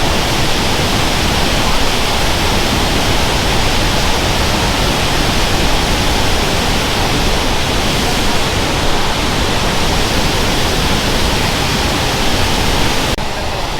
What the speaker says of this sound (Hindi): इस नदी का सीन बहुत ही ज़्यादा तेज़ आवाज़ करते हैं वाली नदी।